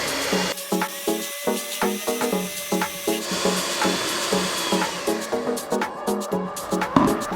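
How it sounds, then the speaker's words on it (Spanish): Chilled cream whipped until foamy for homemade Magnum-style ice pops, a continuous rhythmic whirring and beating with steady repeated pulses, close up and fairly loud throughout. "Vamos a batir hasta que quede bien espumada."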